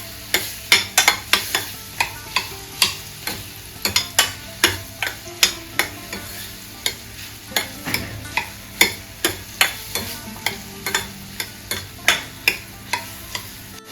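A spoon stirs mashed banana mixture in a pan, scraping in a steady repeated rhythm of sharp strokes over a light sizzle, close and clear with no talking.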